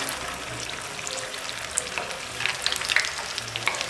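Pieces of tomato-coated bread fry in medium-hot oil with a close, continuous sizzle. Scattered crackles and pops sit over a low steady hiss.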